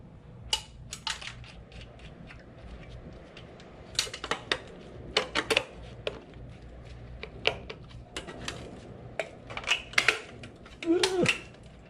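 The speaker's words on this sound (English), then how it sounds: "Get these nylon riser or screws off of here." Nylon riser screws being worked loose from a circuit board in a scrapped fuel control station, scattered sharp plastic clicks, taps and small knocks up close, irregular and fairly faint.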